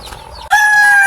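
A labuyo rooster lets out a loud, close crow, a sustained bright call rising suddenly after a moment of faint background noise.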